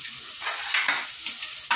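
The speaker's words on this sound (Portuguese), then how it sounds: "Já tô fritando o peixinho aqui." Breaded fish frying in a pan, a steady loud sizzle with hissing crackles and brief surges, heard up close with no talking.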